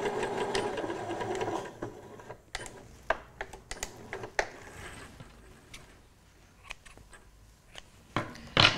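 Sewing machine stitching an invisible zip's tail down to the seam allowance, a brief whirring run at the start followed by scattered clicks and handling taps of fabric and machine parts, close and moderately quiet.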